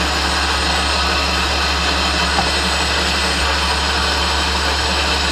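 A Strv 103C tank engine runs steadily at close range, a loud continuous whine over a low rumble that holds constant throughout without any talk.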